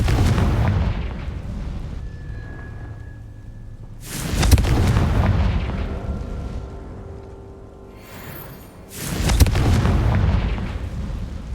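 Two loud Confringo spell blasts burst in the video game Hogwarts Legacy, each a sharp boom with a rumbling tail, separated by a few seconds of quieter ambience and a faint tonal shimmer.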